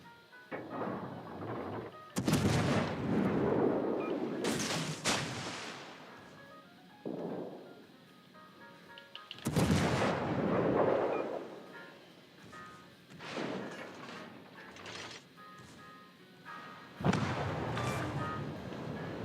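Naval gunfire and explosions from the World of Warships Legends video game, with several heavy booming blasts and rumbling impacts spaced across the stretch over a low background, no voices.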